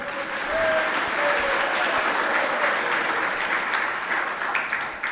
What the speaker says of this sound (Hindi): ताली तो आप लोगों ने बजा दी